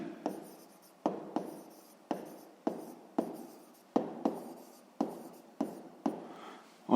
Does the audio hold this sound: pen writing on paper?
yes